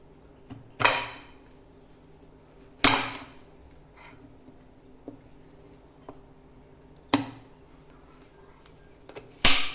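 A knife cuts a Bangkok chamba fruit on a hard surface, giving four or five sharp, close knocks spaced a couple of seconds apart with quiet handling noise between them.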